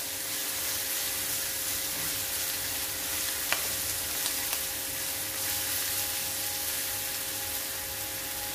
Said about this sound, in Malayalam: ഇഞ്ചി വെളുത്തുള്ളി സവാള ഇതെല്ലാം ഒന്ന് നന്നായിട്ട് വഴന്നു വന്നിട്ടുണ്ട്